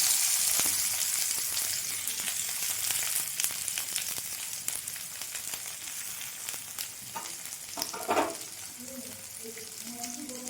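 Whole cumin seeds and onion fry in hot oil in a wok: a loud, crackling sizzle that slowly settles, broken by scraping stir strokes and a brief clatter.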